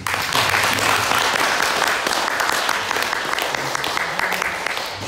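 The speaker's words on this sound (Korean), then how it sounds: "두 분한테 뜨거운 박수 부탁드립니다." Loud, sustained applause from a large crowd at a Sunmudo academic conference, dense steady clapping that fills the whole stretch without a break.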